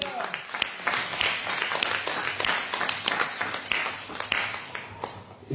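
Church congregation applauding together, a dense steady wash of many hands clapping with scattered voices mixed in, sustained and fairly loud throughout.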